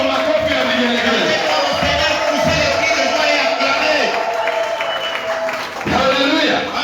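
Church congregation clapping and ululating in a loud, sustained wave of applause and high trilling voices, with cheering and crowd noise filling the space throughout.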